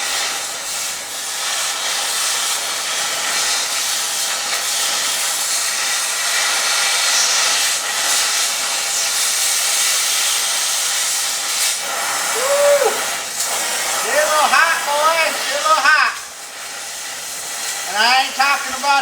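A cutting torch with a clean nozzle slices through metal in a shop, a loud, steady roaring hiss that runs continuously, later joined by squealing, chirping tones near the end.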